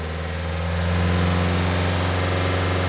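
Opel Vivaro with a 1.9 diesel engine that will not rev up properly, running close by with a steady low drone and a slight rise in pitch as the revs build, with no talk over it.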